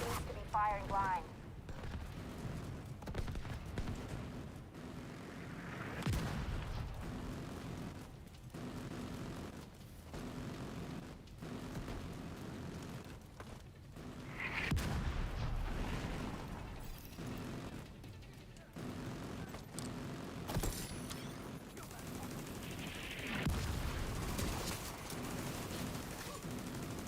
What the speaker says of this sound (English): Autocannon seems to be firing blind.